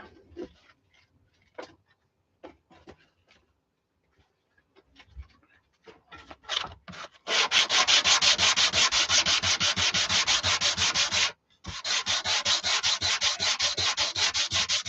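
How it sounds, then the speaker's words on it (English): Sandpaper rubbed by hand over the wood of a homemade cigar box guitar: a few light scattered scrapes at first, then loud, steady, continuous rasping strokes close to the microphone, broken by one short pause. "Get a bit of sandpaper on there."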